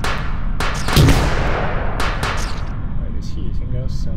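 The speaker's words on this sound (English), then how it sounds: "And you throw a grenade." Sharp gunfire cracks and a deep grenade blast come through in the 7DRL roguelike U-101, several loud bursts over steady rumbling background noise.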